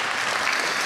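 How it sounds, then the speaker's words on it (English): Audience applause for grade 8 and 9 students at a school Broadway-style show, a dense, steady wash of clapping from a crowd, close and even throughout the brief moment. "So another round of applause for grade 8 and 9."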